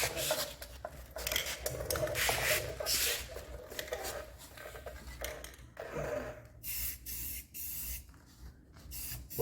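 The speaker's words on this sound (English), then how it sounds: "we're going to come back and paint all this white, so it doesn't matter if we get a little overspray on it" White paint sprays from a can onto a car with red paint, in several hissing bursts of different lengths separated by short pauses, fairly close and alone with no talk.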